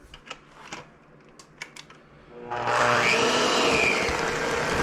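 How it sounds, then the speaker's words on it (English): A few light knocks and clicks, then a blender starts up and whirs loudly and steadily, mixing rainbow trout dip, for the remaining seconds. "it's going to be a little easier if we get the blender here."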